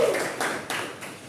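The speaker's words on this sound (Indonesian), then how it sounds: "Aplaus kita bersama." A small classroom group claps briefly after a student presentation, giving a short patter of hand claps that lasts about a second and sounds close and fairly dense, with no voices.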